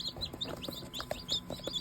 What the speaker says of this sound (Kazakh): Ой, маленький ты, цыпленок